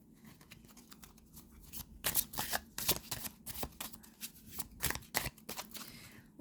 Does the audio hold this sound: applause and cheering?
no